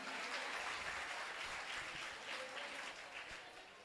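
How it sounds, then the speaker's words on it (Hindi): A gathering at a Jain religious session claps in honour of a newly titled pandit, a fairly soft but continuous wash of applause that fades slightly toward the end. "एक बार तालियां इनके सम्मान में बजाएं"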